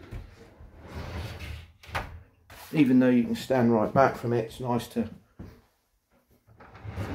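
On a narrowboat's hide-and-slide oven, the oven door slides away into its housing with a soft mechanical glide. It is mostly heard under someone talking close by.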